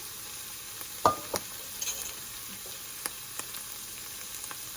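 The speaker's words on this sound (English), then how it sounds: "Now I'm going to add the spices in here." Spices are added to bottle gourd and chana dal frying in a pan, producing a faint steady sizzle broken by a few soft clinks and taps of a spoon against the pot.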